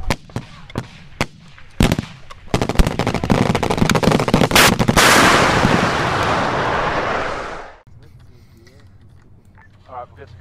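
Rapid gunfire in Arma with the British Foreign Legion mod, during a Mali desert campaign: scattered loud shots build into a dense, roaring barrage lasting several seconds, then cut off to quieter sporadic pops.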